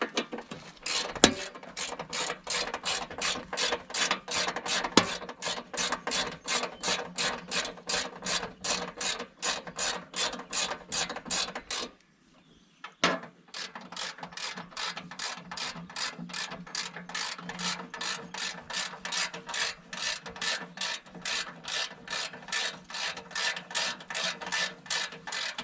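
A Rock Slide Engineering tailgate table is worked with a fast, even ratcheting clatter of metal clicks, close and steady, broken by one short pause and a thump midway.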